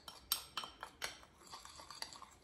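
A peanut butter dark chocolate shake mixed with a small wire whisk, giving faint, quick clinking taps against the container in an uneven rhythm, close by and quiet.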